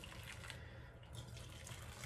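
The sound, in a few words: water filling a jug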